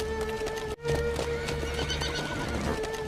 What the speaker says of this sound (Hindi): घोड़े भी पानी पी लेंगे